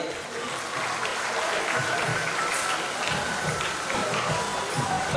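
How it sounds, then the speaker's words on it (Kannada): Sustained audience applause at a book release ceremony during a memorial celebration in Ballari, steady clapping from a large crowd filling the hall for several seconds. "ಬರಲಿ ನಿಮ್ಮ ಒಂದು ಗೌರವಪೂರ್ವಕ ಚಪ್ಪಾಳೆ"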